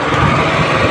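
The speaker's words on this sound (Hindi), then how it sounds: "जैसे हम बाइक को स्टार्ट करेंगे" A motorbike engine, fitted with a small capacitor device in place of its battery, runs loud and close in a steady, buzzing drone with no talk over it.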